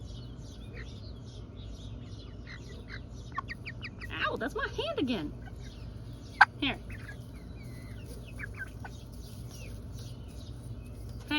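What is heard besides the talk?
chicken clucking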